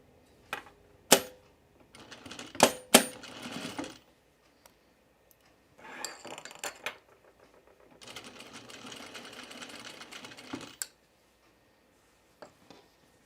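Sewing machine stitching a Strathcona Henley shirt, close by in several bursts of rapid ticking separated by pauses, with a few sharp clicks and no talk.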